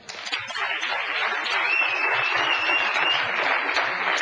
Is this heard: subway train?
no